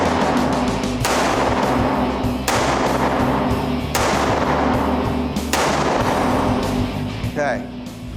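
Five handgun shots are fired one-handed at a target on a shooting range. The loud, close reports crack out at roughly even intervals of about one and a half seconds.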